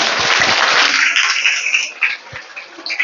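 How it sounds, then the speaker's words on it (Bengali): A workshop audience applauds for a doctor, a moderately loud wash of clapping that thins out over three seconds into scattered claps. "জোরদার হাততালি হয়ে যাক ডাক্তারবাবুর জন্য।"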